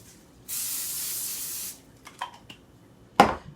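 A steady burst of cooking spray hisses onto aluminum foil for about a second, followed by a few light clicks and a sharp clatter near the end.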